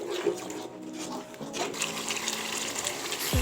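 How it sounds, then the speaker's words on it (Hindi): Half a cup of water poured into frying spices while cooking goat trotters paye, a steady close splash and sizzle of liquid hitting hot masala that runs throughout. "साथ में हाफ कप पानी डाल देंगे ताकि मसालों की भुनाई अच्छे से हो सके"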